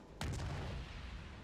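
Heavy naval guns from a Japanese Furutaka cruiser in World of Warships fire with a loud, booming blast, followed by a rumbling decay and a second shot starting at the end, with no talk.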